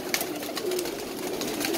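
Pigeons cooing steadily in a loft or enclosure, a continuous low, murmuring chorus of several birds close by with no speech.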